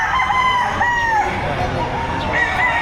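A rooster crows repeatedly at a poultry sale in Batangas, two or three clear calls standing out over steady background noise and other distant fowl.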